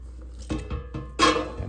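A knife slices through asparagus in a few quick, crisp cuts against a board, close and brief, with the last stroke loudest.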